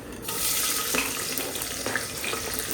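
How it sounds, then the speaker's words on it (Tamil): Onions and green chilies sauté in a pan for a home Tamil Sunday meal, giving a steady, fairly loud sizzling hiss with a few brief stirring clatters and no talking. "வெங்காயம் பச்சை மிளகா சேர்த்துட்டு இது நல்லா ஒரு கோல்டன் ப்ரௌன் வர வரைக்கும் நல்லா வதக்கிக்கலாம்"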